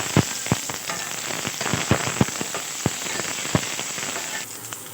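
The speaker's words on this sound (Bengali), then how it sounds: "পেঁয়াজটা কিন্তু হালকা লাল লাল ভাজা হয়ে গেছে" Onions sizzling in a pan while frying for chicken stew, a steady crackle and hiss with sharp irregular pops throughout, fairly close and loud, no talk.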